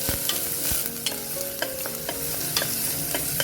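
Small onions and green chillies stirred in a hot pan for a Kerala-style vegetarian tapioca biryani, a steady close sizzle broken by repeated scraping stirs of a spoon against the pan, with no voices.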